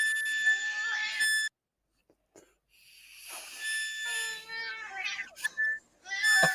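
A cat meows in short bursts alongside piercing, steady electronic whistle tones, with gaps of near silence between them and a person talking nearby.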